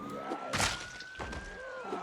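A steady wavering electronic siren from a car alarm in the zombie survival game Project Zomboid, sounding continuously at moderate level with a couple of dull thumps over it and no talk.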